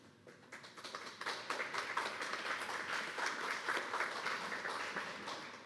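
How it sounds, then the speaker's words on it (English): An audience at a town hall on hunger breaks into applause that swells within the first second and holds as a steady, moderately quiet patter of many hands. "Make sure you save some of that applause for the real distinguished guests."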